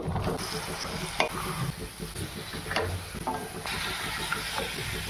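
Chopped vegetables are stirred into a hot pan of homemade spice mix, giving a steady close sizzle and frying hiss with intermittent scraping and clinking of a spoon against the pan.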